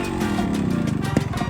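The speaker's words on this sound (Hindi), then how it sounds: "यामाहा RX 100 पर एंट्री मारी" A Yamaha RX 100 two-stroke motorcycle engine runs nearby at India Bike Week, giving a steady, rough, buzzing throb with a slight rise in pace toward the end and no talk over it.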